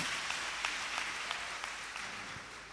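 An audience in a church claps steadily, a soft, continuous patter of many hands heard from a distance, with a few sharper claps standing out.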